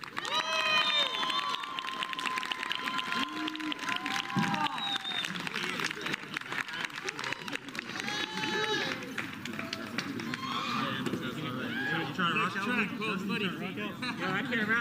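At an outdoor protest event in Portland, a crowd cheers, whoops and claps continuously. Voices shout over each other and loud talk runs throughout the scene.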